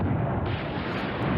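Continuous rumbling barrage of artillery fire in the wargame Command Ops 2, a dense, steady roar of overlapping distant detonations with no distinct individual blasts.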